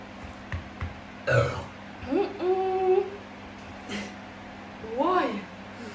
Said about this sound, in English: sorry for the belch there